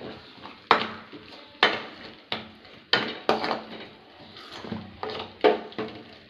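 Paneer curry masala in a pan is stirred with a utensil, giving sharp scraping clanks against the metal at an irregular pace, with a faint sizzle of frying underneath.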